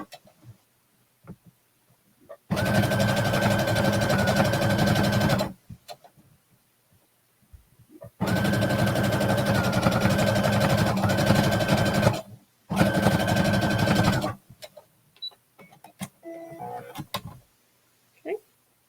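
A sewing machine stitches binding in long steady runs, with a brief pause between bursts and a final shorter run, loud and close with a constant whirring hum.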